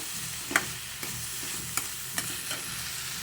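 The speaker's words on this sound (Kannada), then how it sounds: "ಸ್ವಲ್ಪ ಸುಮ್ಮನೆ ಇಷ್ಟು ಸ್ವಲ್ಪ ಫ್ರೈ ಮಾಡೋಣ" Spices frying for mutton sambar, heard as a soft, steady sizzle with a few sharp stirring clinks against the pan, close and fairly quiet throughout.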